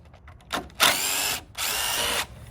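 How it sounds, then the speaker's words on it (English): A power drill backing screws out of a deck rim joist, giving a quick trigger blip and then two loud, close whirring bursts of about half a second each with a brief pause between them. "pull these screws out"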